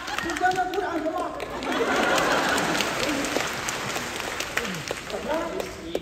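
A swell of audience applause fills the middle of a Deyunshe crosstalk performance in Xuzhou, with the performers' voices talking before and after and light crowd murmur throughout.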